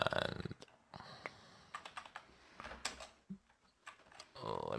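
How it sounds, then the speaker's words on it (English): Keys clack in uneven bursts on a computer keyboard as someone types at a desk, the taps quiet and close, with a short pause in the middle and a faint voice toward the end. "I'm typing something wrong here."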